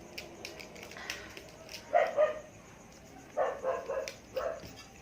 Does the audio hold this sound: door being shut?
no